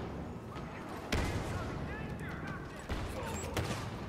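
Blaster fire from a weapon in the video game Star Wars: Battlefront, sharp shots popping every second or two over a constant battle din, with someone talking throughout.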